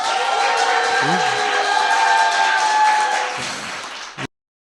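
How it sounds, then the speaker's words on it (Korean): Audience applause and cheering from a crowd at a Korean political talk or rally, a dense sustained wash of clapping that carries on for about four seconds before cutting off abruptly, with a brief voice heard partway through. "일단 박수 한번 칩시다"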